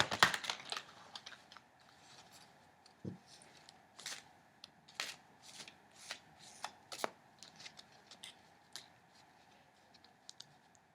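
Large oracle cards are shuffled by hand in a quiet room, their stiff edges snapping and riffling in irregular soft bursts, close and fairly faint, with no talking.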